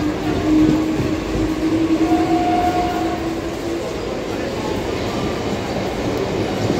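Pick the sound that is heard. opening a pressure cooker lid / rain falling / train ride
train ride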